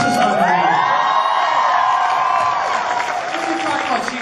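Convention crowd at New York Comic Con cheering and whooping loudly and continuously, a dense roar of many voices filling the hall.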